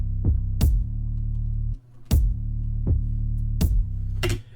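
Deep, booming kick drum thumps land together with a sustained low bass note, repeating in a steady pattern with a brief gap midway.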